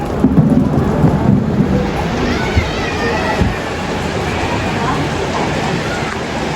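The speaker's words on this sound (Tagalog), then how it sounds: "umuulan dito sa La Union." Steady, dense rain pours down in La Union, Philippines, with a constant wash of noise and a low rumble underneath, while voices murmur faintly in the background.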